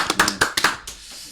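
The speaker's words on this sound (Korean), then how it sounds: "박수 한번" A brief burst of hand clapping, a handful of sharp claps in quick succession that fade out after about a second, heard alone in a room.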